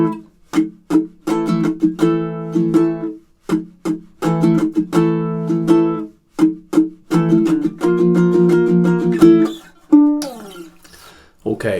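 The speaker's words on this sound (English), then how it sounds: "we're moving into that strummed section now where the rhythm changes here" Baritone ukulele strummed in a percussive pattern, bursts of bright chords alternating with muted chunky strokes in a repeating rhythm, close and loud, ending with a final ringing chord.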